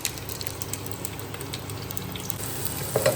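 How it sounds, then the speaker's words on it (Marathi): Onions fry in a pan for a chicken dish, giving a soft, continuous sizzle with faint crackles and light stirring, with no voices. "कांदा टाकला, मस्त कांदा शिजू द्या."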